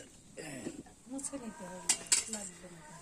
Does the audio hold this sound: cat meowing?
yes